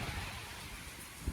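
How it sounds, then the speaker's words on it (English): Rain falls outdoors as a faint, even hiss with a low rumble underneath, steady throughout the short moment. "it's raining"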